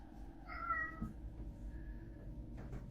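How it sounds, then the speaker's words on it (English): A house cat meows once near the start, a short drawn-out call, then stays quiet against a low indoor hum with a faint thud and rustle later. "My cat just keeps walking around meowing"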